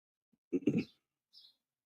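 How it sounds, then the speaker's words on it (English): Birds near a door give a few soft, brief calls: a short low cluster of coos followed by a faint high chirp, quiet against near silence. "I hear birds."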